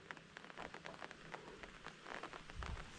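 Heavy rain pours steadily at a village garden, a dense broadband wash with scattered heavier patters that swell louder toward the end, no talking.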